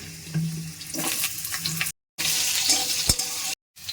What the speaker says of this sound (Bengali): এবারে আলুগুলোকে একটু ভেজে নিচ্ছি